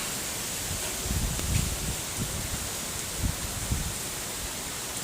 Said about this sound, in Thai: ต้นไม้ใบหญ้าปลิวว่อน เลยครับ